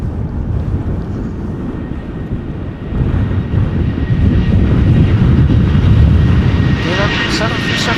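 A KLM Boeing 737-700 jet roars past at an airport, a loud, steady engine rumble with wind buffeting that swells and grows stronger toward the end.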